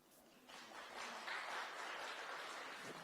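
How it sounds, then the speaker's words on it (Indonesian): A church congregation breaks into applause, a dense, steady wash of clapping that swells after the first half second and holds loud for the rest. "Tepuk tangan."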